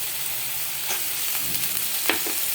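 Soaked chickpeas drop into spice paste frying in a pan, giving a steady close sizzle with a few sharp scrapes and stirring clatters near the end, no voices.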